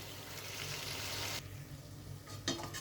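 Tomato paste frying with ginger and garlic in a pan for Mughlai chicken, a soft steady sizzle that drops after a stir, then a short clink.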